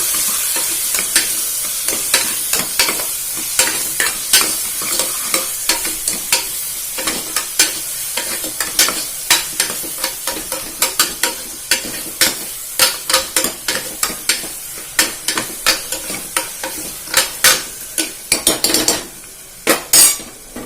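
A moong dal mixture is stirred and sautéed in a pan for chow chow kootu. Quick, rhythmic spoon scrapes and taps ring out over a constant loud sizzle.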